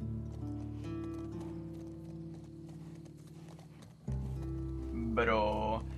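Horse in The Last of Us Part II, its hooves clip-clopping steadily under continuous talk and game ambience, with a brighter burst of sound near the end.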